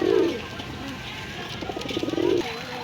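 Pakistani pigeons at a pigeon market in Gollamari, Khulna, give two low throaty coos, one at the start and one near the end, over busy background chatter from people nearby.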